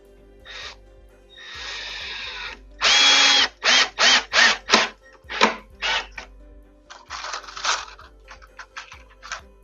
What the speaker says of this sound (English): Let's get these other screws in, and I can take the clamps off.